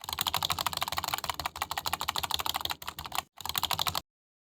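Rapid, steady typing on a computer keyboard, close and crisp, with dense key clicks in bursts and a brief pause before a final run that cuts off abruptly.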